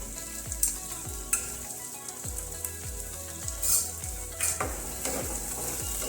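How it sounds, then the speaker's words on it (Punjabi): Capsicum is stirred into sizzling onions for Amritsari paneer bhurji in a pan, a steady loud frying hiss broken by regular scraping spoon strokes about once a second. "ਸ਼ਿਮਲਾ ਮਿਰਚ ਪਾ ਕੇ ਮਿਕਸ ਕਰ ਲੈਂਦੇ ਆ"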